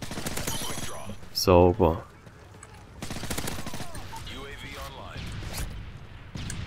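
Rapid bursts of submachine gun fire from an MP9 in Call of Duty: Modern Warfare 3, with dense rattling volleys and loud clustered shots, mixed with a voice speaking and other game noise.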